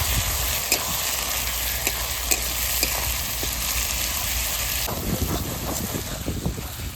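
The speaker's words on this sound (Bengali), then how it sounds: "রসুন বাটা আদা বাটা এবার আবার একটু ভেজে নিই" Ginger and garlic paste frying in a pan while cooking mutton curry, a dense, even sizzle with occasional stirring taps, turning into busier crackling and scraping toward the end.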